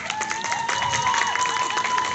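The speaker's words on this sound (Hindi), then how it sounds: "पहले कपल के लिए तालियां" An audience applauds and cheers for the first couple at a lucky-draw ceremony, a steady wash of clapping and crowd noise through the short moment with no clear voice over it.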